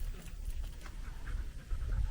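A Labrador retriever pants in quick, soft rhythmic breaths close by during a working retriever test, fairly faint against outdoor background noise, with no talking.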